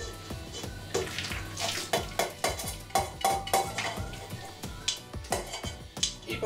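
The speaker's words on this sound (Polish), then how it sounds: "Po prostu mieszamy już krócej, tylko żeby się równomiernie składniki połączyły." Meat pieces are stirred into a sticky pressed-brawn mixture, giving a steady run of close, wet, squelching strokes in an even rhythm.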